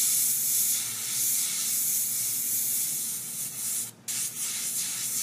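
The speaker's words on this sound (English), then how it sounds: "This airbrush is responding very quickly." An airbrush spraying paint onto a design of palm trees, a loud continuous close-up hiss that holds steady and cuts out for a split second near the end before resuming, with no talking.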